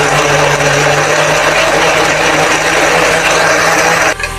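An electric kitchen chopper blitzing roughly cut tomatoes with half a cup of water, a loud, steady motor whir with a churning grind that runs continuously close up before cutting off near the end.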